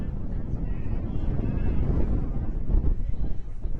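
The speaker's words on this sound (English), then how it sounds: "Listen to those gusts." Blustery wind roars across the microphone in heavy, rumbling gusts at a professional soccer match, swelling and easing over a few seconds.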